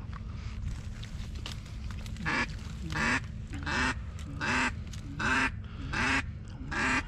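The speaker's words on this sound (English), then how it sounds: "Mallard, big duck." Mallard duck quacking on big open water, a series of loud raspy quacks in a steady rhythm about every half to three-quarters of a second, over a constant low rumble of wind and water.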